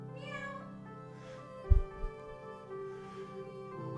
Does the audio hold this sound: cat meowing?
yes